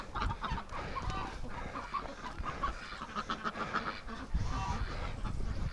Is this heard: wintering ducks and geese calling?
yes